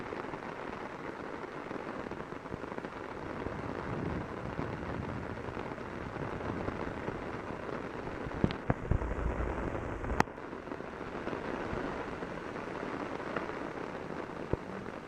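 Heavy rain pouring down outdoors during a Long Island flash flood, a dense steady roar of drops hitting surfaces throughout, with a few sharp louder spatters near the end.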